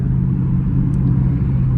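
Deep, steady exhaust rumble from a Dodge Scat Pack's big tailpipe, heard from inside the car during a late-night drive, a low continuous drone with no voices.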